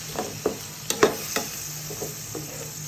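Dry spices frying in a pan for a prawn curry, sizzling softly while being stirred, with a few light spoon scrapes and taps scattered over a steady low hiss, no talking.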